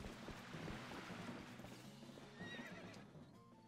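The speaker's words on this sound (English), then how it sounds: "So are you basically just trying to stay on the horse?" A horse in The Legend of Zelda: Twilight Princess HD gallops with a rapid, steady clip-clop of hooves and gives a short whinny partway through. Wind and game ambience sit underneath, with no talking.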